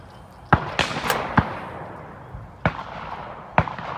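Shotgun shots at FITASC sporting clay targets outdoors, five sharp loud reports spaced irregularly over a few seconds, with faint ambient noise between them.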